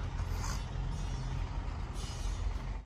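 A 2018 Nissan Navara's 2.5-litre diesel engine idling steadily and smoothly with a low rumbling drone and a faint hiss, close by, no voices.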